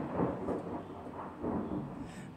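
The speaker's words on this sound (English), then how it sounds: "Thunder and lightning." Low rolling thunder rumbling in the background, a steady dull roar with slow swells, moderately loud and alone.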